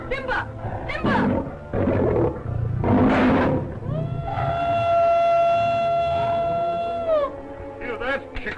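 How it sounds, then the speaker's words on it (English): A lion roars in a jungle scene from an old adventure serial, with several rough, heavy bursts followed by a long, steady tonal wail that rises, holds and drops, all loud and close. "Hear that? Shikoli lion."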